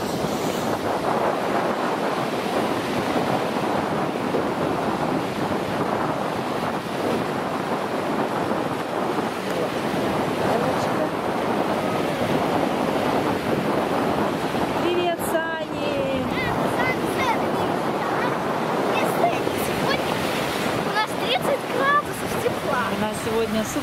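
Sea waves and surf wash continuously on a summer day at a swimming beach, a broad steady rush with wind buffeting the microphone and splashes around a swimmer bobbing in the waves, and someone talks over it.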